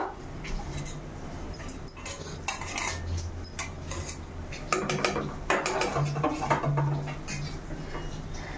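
Spoon scraping and clinking against a pot while garlic chilli paste is stirred into egg gongura curry, faint metallic taps in a quiet kitchen, growing a little busier midway.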